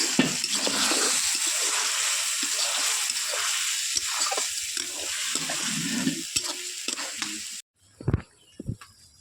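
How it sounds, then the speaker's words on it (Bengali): Cumin and coriander powder masala fried and stirred in oil for a capsicum chicken, a steady loud sizzle running close for most of the time, then cutting off and leaving a few scraping stir knocks. "দিয়ে মশলাটা আমি বেশ খানিকক্ষণ ধরে কষে নেব"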